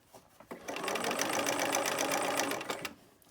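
A sewing machine runs a steady burst of stitching through fabric for about two seconds, its rapid rhythmic needle chatter close and even, starting and stopping cleanly with brief handling noises before and after.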